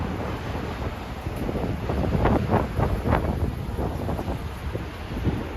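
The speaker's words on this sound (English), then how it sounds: "A bit windy right now." Wind buffets the microphone in a continuous rumbling roar in New York City's Central Park, swelling and easing in gusts, with no voices.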